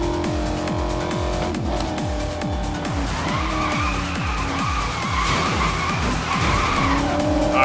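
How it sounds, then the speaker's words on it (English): A Maserati GT MC Stradale in Need for Speed: Most Wanted (2012) roars loudly through rapid gear changes, with rhythmic engine pulses and tires squealing and skidding continuously through the corners. "This car sounds beautiful as well."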